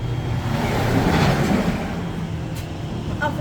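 A car engine pulls away close by, its low rumble swelling and then easing off as the vehicle drives away.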